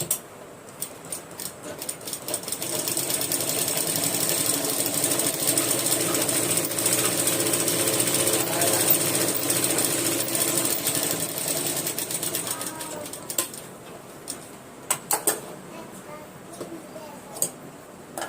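A sewing machine runs steadily, stitching back over the same line of a tailoring practice seam, a dense ticking whir that holds for most of the stretch before slowing into scattered clicks near the end; a voice speaks over it.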